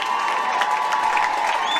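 Crowd at a Leinster Junior Club Championship final between St Colmcilles and Muckalee applauding and cheering players walking to the presentation area: a dense, continuous wash of clapping and shouts, fairly loud and sustained.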